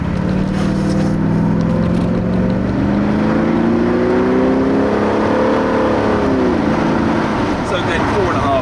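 A Porsche 928 accelerates hard as its engine revs up steadily in a rising tone, then shifts and climbs again, loud and close from inside the car.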